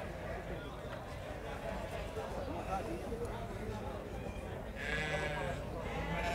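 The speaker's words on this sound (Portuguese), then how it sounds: "Aqui são ovelhas paridas, né?" Sheep bleat at a crowded livestock market in Cachoeirinha, Pernambuco, where ewes with lambs are being sold, their cries rising over continuous crowd noise and talk, with a louder bleat toward the end.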